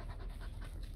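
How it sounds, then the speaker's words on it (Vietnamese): A Bac Ha fluffy-coated bobtail dog, a Vietnamese native breed, pants in quick, steady breaths close by, with no talk over it. "con chó rất là vui vẻ"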